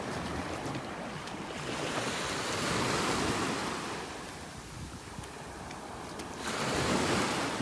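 Ocean surf washing onto a beach in North Naples, Florida on an incoming tide: a steady broadband roar of breaking waves that swells and eases, with wind buffeting the microphone and no voices.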